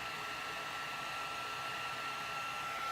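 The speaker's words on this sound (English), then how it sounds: "heat up clear embossing powder" A heat tool melts clear embossing powder over stamped ink during a mixed-media crafting session, giving a steady, close, even blowing whir that runs unbroken from start to finish with no voices over it.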